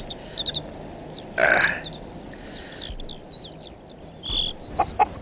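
A hen gives a few short clucks amid chirping birds, with some brief rustles and a louder squawk near the middle.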